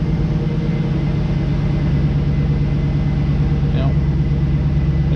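A 2002 Pontiac Trans Am WS6 V8 idles loudly and steadily close by, a continuous low rumbling throb with a faint brief squeak near the end.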